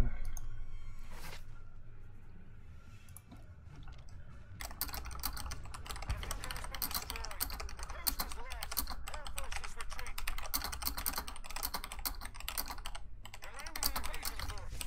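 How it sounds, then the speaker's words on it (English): Rapid clicking of a computer keyboard as a player types during a Star Wars: The Old Republic PvP match, steady keystrokes running close under game sound and a talking voice. "so I'm typing in"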